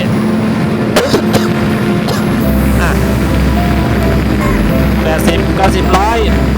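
A Honda CBR150i motorcycle cruising in sixth gear at about 100 km/h with the engine near 6,500 rpm, a steady loud engine drone mixed with heavy wind rush, with a rider speaking briefly over it.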